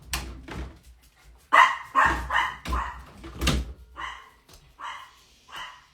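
A dog barks indoors in a series of sharp, close barks with short gaps, mixed with a few softer yips and whimpers toward the end.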